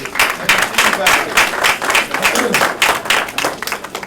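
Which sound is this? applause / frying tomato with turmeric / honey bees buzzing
applause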